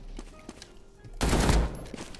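AK gunfire with a custom sound in the Krunker.io browser shooter: a short, loud burst of rapid shots lasting about half a second, surrounded by quieter game noise.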